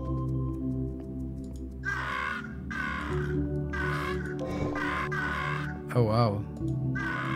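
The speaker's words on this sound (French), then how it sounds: "L'ennuyeux peuple des corneilles." Crows caw repeatedly in the video game Monument Valley, a steady series of harsh calls about once a second over a constant musical drone, with a brief exclamation from a person partway through.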